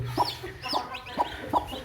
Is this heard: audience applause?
no